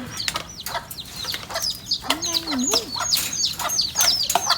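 Chicks and hens cluck and cheep in a close, busy pen as people scramble to catch them, with wing flaps and scuffling around brief call sweeps.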